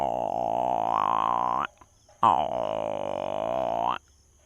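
A voice makes two long, droning croaks, one after the other with a short pause between, imitating a frog up close.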